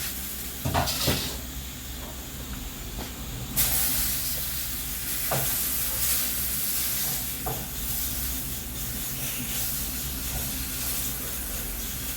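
Eggplant fries in a pan on a gas cooker with a steady broad sizzle and hiss. Occasional knocks and clinks of utensils break through, and one louder burst of spitting marks a stir partway through.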